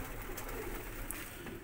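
Pigeons coo softly in a loft with a cold floor, low murmuring calls under a steady background hiss, faint and indistinct.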